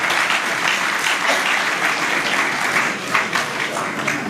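Applause for the chairman at a Ghanaian book launch and auction, dense even clapping from a crowd sustained throughout without speech.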